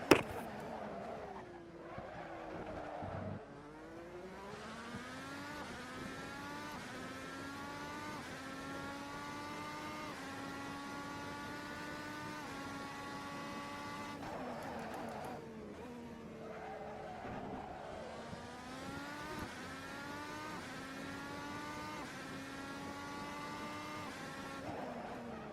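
A Red Bull X2010 race car engine in Assetto Corsa, racing around Spielberg, screams through rising high revs, with sharp drops at gear changes and braking, held loud and continuous over a long run with tire squeal.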